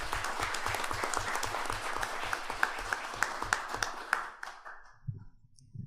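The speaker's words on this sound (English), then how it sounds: "give her a big round of applause" An audience applauds at a community talk on the labour shortage, dense clapping for about four seconds with a low rhythmic pulse underneath, then tapering off into a quieter room.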